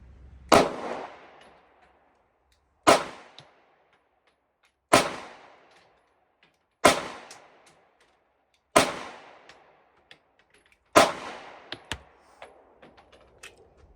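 A Kimber Micro 9 pistol fires 115 grain rounds, six sharp loud shots spaced about two seconds apart, each with a short decaying echo, followed by faint clinks of casings and no talking.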